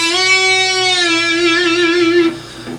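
One electric guitar note from a lick bends up, holds with a steady sustained tone, then drops back at the end, bright and loud with no accompaniment.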